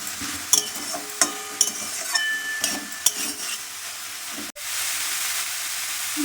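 Broccoli fries with onion and ginger in a pan while a spoon stirs it, with sharp scraping clicks and knocks over a continuous sizzle that swells to a loud steady hiss near the end.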